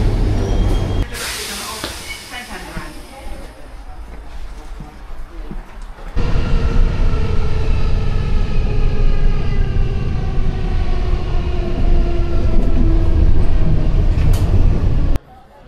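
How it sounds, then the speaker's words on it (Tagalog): A train pulls into a station on the way to Szentendre. A loud, continuous rumble and rolling rail noise swell in after a few seconds and hold steady, with muffled crowd noise in the first part. "Ito na yung next train."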